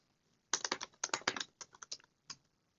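Quick bursts of typing on a computer keyboard, a close, crisp flurry of keystrokes in two clusters, then a final single tap, with no talk.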